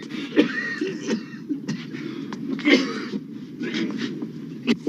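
An older man who smokes cigars gives several rough, barking coughs and throat clears between stretches of conversation, close and fairly loud.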